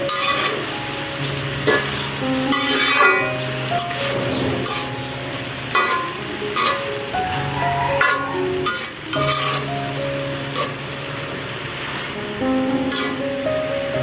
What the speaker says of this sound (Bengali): উল্টিয়ে পাল্টিয়ে দিচ্ছি শাকটা